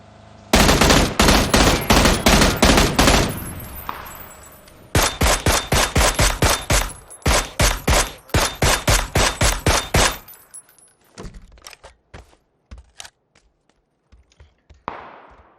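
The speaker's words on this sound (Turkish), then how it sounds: "Adam korksun diye sıkıyorum." Rapid bursts of automatic gunfire ring out in PUBG on the Erangel map. Loud, close volleys repeat in several long strings, then thin out into scattered, fainter single shots near the end.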